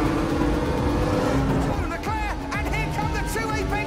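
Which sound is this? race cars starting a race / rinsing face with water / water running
race cars starting a race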